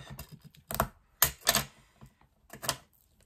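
Ribbon being cut with scissors for an Easter card craft, a few sharp snipping clicks close to the listener in short bursts, with no talking.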